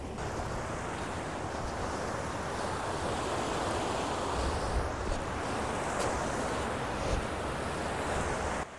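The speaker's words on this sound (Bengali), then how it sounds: "আমি এখন ঝর্ণার সামনে চলে এসেছি" Waterfall near Maithon among rocks, a steady, even broadband roar of falling water that runs unbroken throughout at moderate volume, with no voices.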